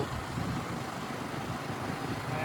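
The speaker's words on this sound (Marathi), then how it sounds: "टेम्पो गेलेलो, टेम्पो एक इर्टिगा गेलेली" Tempo van and a Maruti Ertiga car passing by on a road near Devgad, a steady broadband rush of traffic noise lasting throughout at moderate distance, with no talk.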